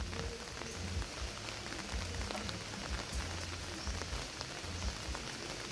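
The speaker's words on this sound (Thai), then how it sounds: "ฝนตก" Steady rain falls continuously around a pig fattening barn, a dense even patter with no voices.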